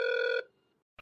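A telephone rings with an incoming call, one short electronic ring burst that cuts off after less than half a second, followed by a faint click, with no talk.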